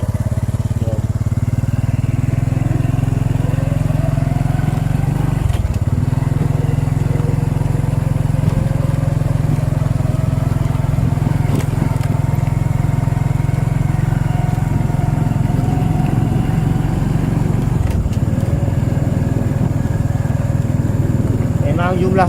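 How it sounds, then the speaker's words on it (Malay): Motorcycle riding along Jalan Bukit Putus at night, a loud steady engine drone with constant wind rush and a few shifts in engine pitch as it travels the road. "So saya akan bawa anda menaiki motor ni dan akan explore apa yang ada di sekitar Jalan Bukit Putus ni."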